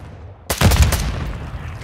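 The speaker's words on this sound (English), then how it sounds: "Friendly precision airstrike inbound" A precision airstrike explosion in Modern Warfare 2 bursts in suddenly after a short quiet, a loud, deep blast with rumbling impacts that decays into a lingering roar.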